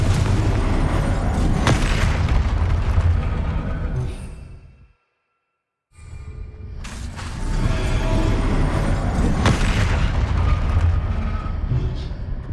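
A Confringo explosion spell cast in Hogwarts Legacy on PS5: loud, sustained booming blasts that cut to complete silence for about a second, then return just as heavily.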